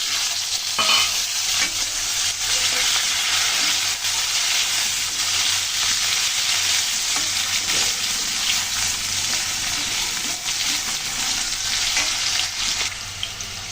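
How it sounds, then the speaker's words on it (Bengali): Potatoes and onions fry in hot oil in a pan, a steady loud sizzle with occasional stirring scrapes running unbroken from start to finish, no voices. "পেঁয়াজের সাথে আলুগুলো দিয়ে দিই।"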